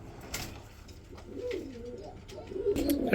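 Fancy pigeons kept for sale coo nearby in soft, throaty rolling calls rising toward the end, with a few sharp clicks and rustles around them.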